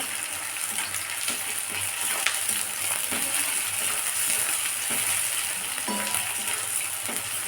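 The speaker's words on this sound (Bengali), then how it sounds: "এবার পেঁয়াজ কুচিটা একটু ভেজে নেব।" Chopped onions frying in oil make a loud, steady hiss and crackle that holds evenly from start to finish, with a few faint utensil clicks and no speech.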